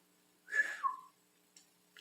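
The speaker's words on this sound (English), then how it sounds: "Can't get a whistle out right now." A person attempts a whistle: one short, faint, downward-sliding breathy whistle note, followed by near silence and a couple of small clicks.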